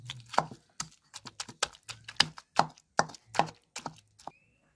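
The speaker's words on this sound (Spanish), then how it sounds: "Voy a empezar a moler aquí en el molcajete." A stone hand pestle grinds chile and tomato salsa in a stone molcajete, making a steady run of sharp, close knocks and crunchy scrapes in an irregular rhythm, with no talking.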